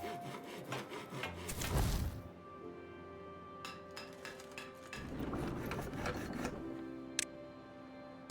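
A lumber mill sawing planks in the video game Timberborn gives repeated wooden rasping saw strokes, two longer bursts with clicks and knocks between, at a moderate level.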